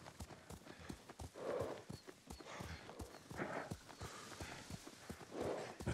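Horse hooves clip-clop in a steady rhythm during riding in Ghost of Tsushima, close and distinct, with an occasional snort or whinny-like breath over a quiet background.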